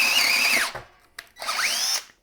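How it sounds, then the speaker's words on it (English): A corded drill on speed 2 bores through with a 1/2 inch twist bit, whining in two close bursts whose pitch drops as the bit bogs down, separated by a short pause and a click. "it does make it through on speed 2 with the 1/2 inch twist bit"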